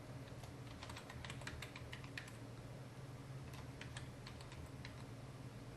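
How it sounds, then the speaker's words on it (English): Keys are tapped on a computer keyboard in quick irregular bursts with short pauses, quiet and close, over a low steady room hum. "I'm going to simply type in here"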